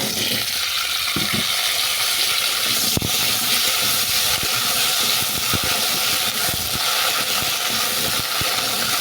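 Jujube fruit (kul) fries in hot white oil in a pan for pickle, giving a continuous close hiss and sizzle with scattered small pops and crackles throughout.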